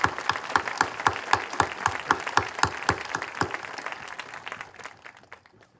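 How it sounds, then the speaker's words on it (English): Audience applause at a high school graduation ceremony, a dense burst of many hands clapping loudly, then thinning and fading out over the last second or two. "They deserve a round of applause."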